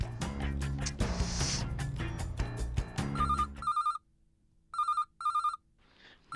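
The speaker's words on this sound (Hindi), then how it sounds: "नट्टू काका, सेठ जी का फोन" A telephone rings in short electronic bursts, with two or three clear ring pulses alone after busy background music fades out.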